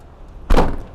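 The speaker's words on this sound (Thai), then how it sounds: "เดี๋ยวบิมปิดประตูแป๊บหนึ่ง" The door of a 2014 Honda Jazz 1.5 SV shuts with a single loud, close thunk that fades quickly, with no other sound around it.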